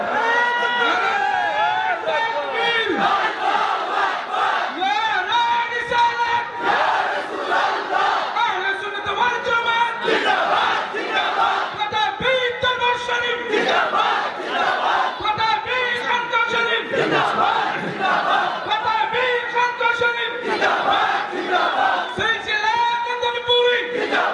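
A large crowd at a religious sermon chants slogans in loud unison, rhythmic surging shouts repeating throughout with a voice leading the calls over the mass response.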